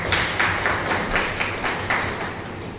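An audience at a talk on banana farming claps together, a continuous patter of many hands with rhythmic surges, steady and fairly loud from nearby.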